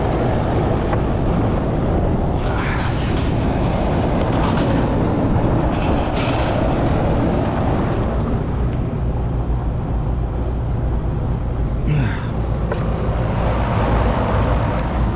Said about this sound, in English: I want to make sure my blower's running beautifully fine.